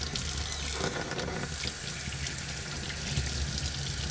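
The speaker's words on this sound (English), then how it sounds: "I'll take a little bit of water, start washing this off again." Tap water runs steadily from a sink faucet over freshly 3D printed parts being washed, a continuous broadband splashing hiss that stays even and close throughout with no talking.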